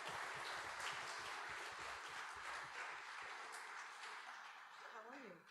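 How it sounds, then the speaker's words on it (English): Audience applause at a ceremony honoring Justice James H. Coleman Jr., broad clapping heard faintly and at a distance, fading slightly toward the end as a voice begins. "Let's give him a round of applause."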